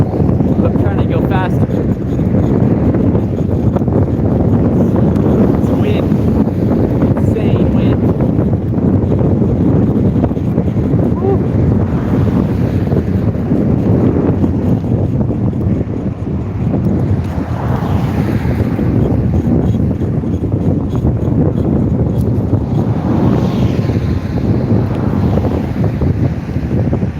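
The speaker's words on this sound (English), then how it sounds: "It's wind." Wind roaring across a microphone while someone bikes along the road near Charleston, South Carolina: a loud, steady, rumbling buffet that never lets up.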